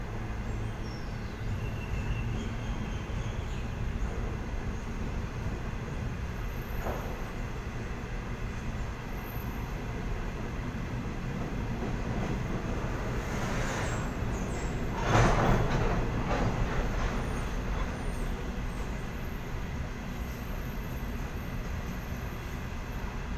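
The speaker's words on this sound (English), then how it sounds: "Looks like we've got a trailing locomotive." A Sydney train hauled by a trailing locomotive picks up speed, giving a steady rumble and rail noise throughout, with a brief louder clatter passing midway.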